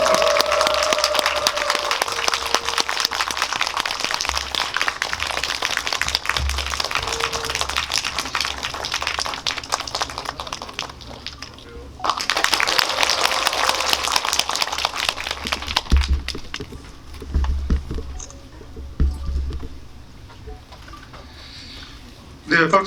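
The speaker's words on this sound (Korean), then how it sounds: "예, 계속 박수 쳐주십시오." Sustained audience applause fills a cinema hall at a film talk event for the movie Harbin, loud and continuous with brief dips, as a host speaks over it at points.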